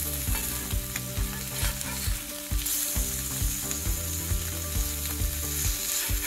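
Breakfast frying on a Tribal Fire grill over lumberjack charcoal, a loud steady sizzle overlaid with a regular rhythmic mechanical clicking or ratcheting pulse repeating throughout.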